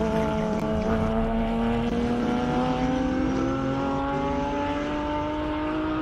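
A Porsche GT3 R race car climbs the Simola hill climb, its engine a loud, steady, close howl that rises gradually in pitch as it pulls hard uphill.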